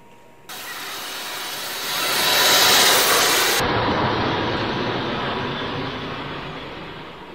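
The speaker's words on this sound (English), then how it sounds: "that was the sound of an airplane." Loud jet airplane roar that swells in over several seconds, peaks as if passing near, then continues as a broad, slowly fading rumble with no talk.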